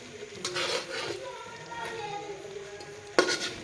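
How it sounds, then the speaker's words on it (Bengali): Fried bread is stirred into sugar syrup in a pan on the stove, with soft scraping and a light sizzle, close by and fairly quiet, and a sharper knock of the utensil near the end. "তো এখানে আমি সুন্দর করে মিক্স করে নেব শিরার সাথে"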